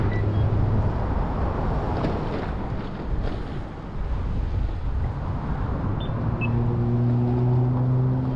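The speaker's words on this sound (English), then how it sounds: "There's a lot of traffic." Road traffic rushes steadily past a cyclist riding the shoulder of Sierra Highway near Los Angeles, with a constant broadband wind-and-tire roar and a low engine drone rising toward the end.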